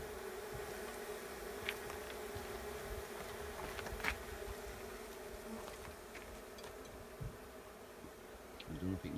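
A soft, steady hum of many bees buzzing around a hive, faint and constant, with occasional ticks and a brief louder buzz near the end.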